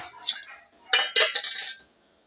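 A metal cooking pot is opened and handled while vegetables are cooked with lemongrass, giving two short bursts of clanking and scraping metal, close and moderately loud, with no talk over them.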